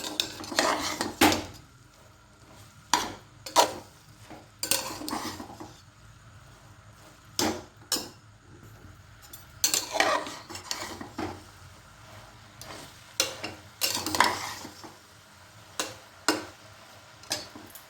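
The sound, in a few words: stirring vegetables in a pan for vegetable chowmein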